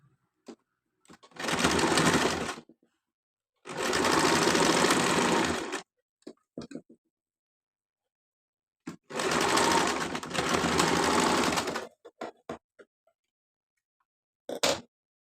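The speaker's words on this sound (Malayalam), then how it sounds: "രണ്ട് ഷോൾഡറും നമ്മൾ ഇതുപോലെ സ്റ്റിച്ച് ചെയ്തെടുക്കാം" An electric sewing machine stitching the shoulder seams of a simple frock, running in four loud bursts of rapid whirring stitches separated by quiet pauses with a few faint clicks.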